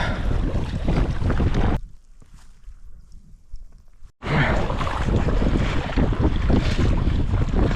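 Strong wind buffets the microphone while kayaking across a Scottish loch in Knoydart, with steady roaring gusts and water noise, a brief lull midway before the loud blustering returns.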